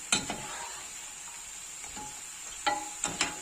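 Karasev dough pressed into hot oil crackles in a soft, steady sizzle, with a few sharp clinks of a metal ladle against the pan scattered through.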